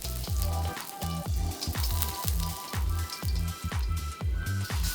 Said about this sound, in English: A bit of oil in a pan, then toss in the shallots and sauté them until they smell amazing.